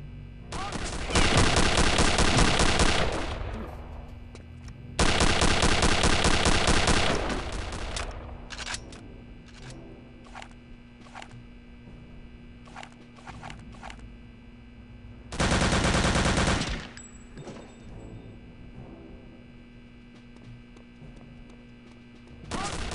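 Automatic gunfire from the video game Return to Castle Wolfenstein rips out in three long, loud sustained bursts, with a scatter of sharp single shots between them over a steady low background hum.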